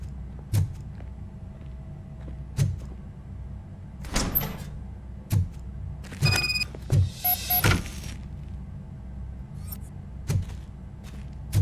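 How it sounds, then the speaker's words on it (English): Door opening in the RoboCop video game, a series of sharp mechanical thuds and clanks spaced through the clip, with a brief cluster of metallic sliding and whirring sounds in the middle. "Now let me get that door open for you."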